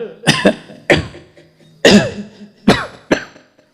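A voice imitates a heavy, chesty cough with phlegm-congested chest: five harsh, hacking bursts spaced irregularly, close and loud, with no talking.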